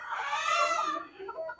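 Egyptian Fayoumi chickens on a farm giving one close, loud drawn-out call that fades into softer clucks.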